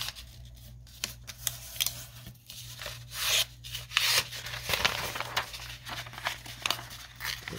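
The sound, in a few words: trimming a book page for a junk journal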